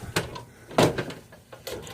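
Heavy glass fireplace screen door being operated, a few soft thuds and sliding knocks spaced over two seconds, fairly quiet and close.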